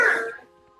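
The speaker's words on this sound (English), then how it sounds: "Sorry to cough in everyone's ear." A single hoarse cough from a person who is feeling unwell, loud and close, fading quickly into a faint ringing tone.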